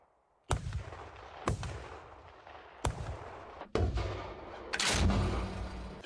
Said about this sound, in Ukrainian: Гармату обслужили, гармату зарядили, і зараз будемо виконувати стрільбу.